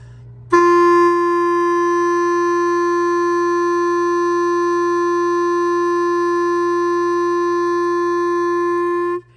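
A single steady long tone blown on a clarinet mouthpiece, loud and close, held unbroken for about nine seconds with a clean start and stop and no talking.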